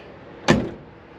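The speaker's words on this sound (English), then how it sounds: "Let me go a little bit softer. This door shuts perfect. I'm gonna barely shut it." A 1968 AMC AMX car door is barely pushed shut, giving one soft, short latching thud close by in a quiet setting.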